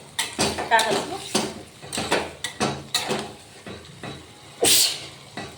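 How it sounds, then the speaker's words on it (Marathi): Metal spoon scraping and clinking in a pan as cowpea pods are stirred into masala, a series of close irregular clanks with someone talking over them. "छान असं मसाल्यामध्ये फिरवूया."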